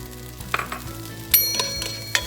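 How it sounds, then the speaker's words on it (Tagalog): Spam frying in a pan, a soft steady sizzle broken by a few sharp pops and utensil scrapes, close and alone. "piprituhin muna po natin ng konti itong ating spam"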